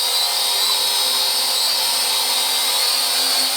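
An FQ777-955C Scorpius quadcopter drone hovers close by, its small rotors giving a steady, high-pitched whine that stays even throughout.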